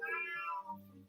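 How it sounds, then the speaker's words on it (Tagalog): An angry cat gives a single drawn-out meow, close and moderately loud, its pitch sliding downward into a low growling tail, with no voices over it. "Oh, galit ng pusa, nagalit na."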